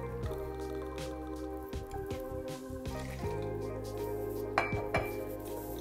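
Kahlua liqueur is poured into a cocktail shaker packed with ice for a grasshopper cocktail. Close liquid dribbling and trickling mix with small clinks and cracks of shifting ice, steady throughout.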